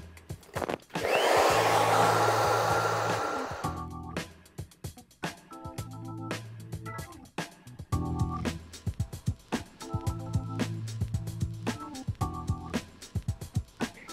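A hair dryer blows hair completely dry during a keratin treatment, its steady airy roar running loud and close, then breaking into choppy on-off bursts and pulses as the air stream moves.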